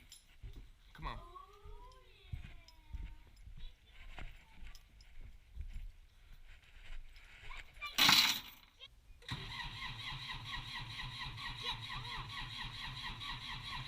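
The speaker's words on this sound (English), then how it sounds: "This was the first turn on of the tractor that you're seeing on the video here." A tractor engine cranks and catches on its first start-up, settling into a steady droning idle after a sharp burst of noise, preceded by scattered voices and light clatter outdoors.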